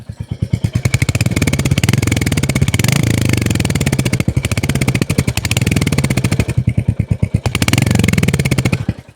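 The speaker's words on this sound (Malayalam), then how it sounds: "വാഹനത്തിൻ്റെ എക്സോസ്റ്റ് സൗണ്ട് ഒന്ന് കേട്ടാലോ" Royal Enfield Hunter 350 motorcycle exhaust, a loud close single-cylinder thump idling and blipped in repeated revving swells, with a distinct pulsing beat throughout and no talk.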